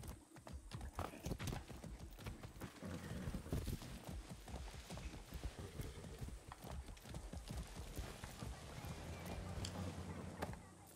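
Steady clip-clopping hooves from a trotting horse in the video game Far Cry 6, fairly close, continuing throughout over a busy background of ambient noise and faint voices.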